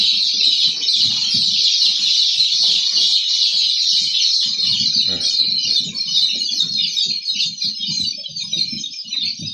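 A large batch of eight-day-old black Andijan breed chicks cheeps in a dense, continuous high-pitched chorus, loud and close, with faint low knocks and shuffling underneath.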